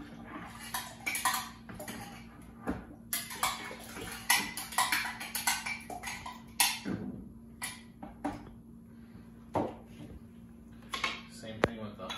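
A metal spoon scrapes and clinks against a container to help the contents drain, giving a run of irregular sharp knocks and scrapes at close range, with a voice talking over them at times.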